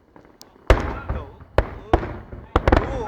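Eid fireworks display bursting in loud, sharp booms, several blasts spaced over a few seconds with crackling between them, while people talk and shout nearby.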